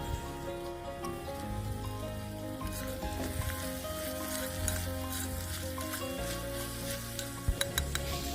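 Onion, ginger-garlic paste and chopped tomatoes fry in a tiny miniature pan. A continuous, crackling sizzle like light rain comes with occasional stirring clicks and a few sharper taps near the end. It is quiet and close, with no speech.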